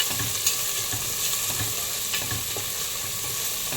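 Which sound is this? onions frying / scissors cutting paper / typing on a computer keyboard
onions frying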